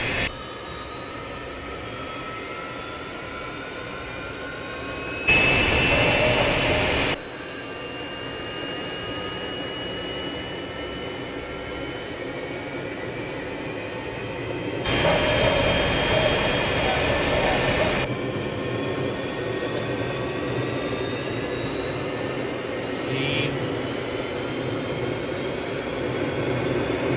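A jet aircraft engine with afterburner gives a steady, continuous roar throughout, with two louder broadband surges of several seconds each.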